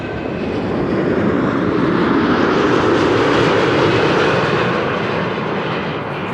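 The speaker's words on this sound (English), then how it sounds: "This has been Delta Airlines Flight 162, arriving from Minneapolis, Minnesota." Delta Airlines jet, flight 162 from Minneapolis, arriving at Amsterdam Schiphol on a frosty day: a loud, close engine roar swells to a peak midway and then eases slightly, heard alone.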